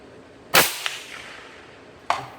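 Rifle fired while zeroing the scope at a shooting range, two sharp loud cracks about one and a half seconds apart, each with a short echoing tail.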